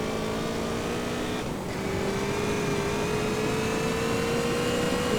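A steady droning motorcycle engine in the video game DayZ hums continuously, its pitch rising slowly as it revs, loud and unbroken.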